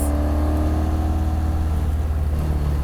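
A V8-swapped car accelerating hard from a driver's seat view, a loud, deep, throbbing engine rumble with steady low pulsing that holds strong throughout, with no talking.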